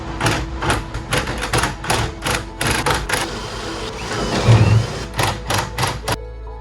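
An impact wrench rattles screws into a boat's stern plate on a 25ft Bertram, giving a series of loud, close hammering bursts with short gaps between them, then stopping near the end.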